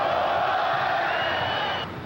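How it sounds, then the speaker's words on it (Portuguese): Fluminense supporters in a stadium at a 2006 Copa do Brasil match against Cruzeiro, a dense, steady roar of crowd chanting and shouting that fills the whole stretch, easing slightly at the very end. "Enquanto a torcida do Fluminense pedia mais um e gritava"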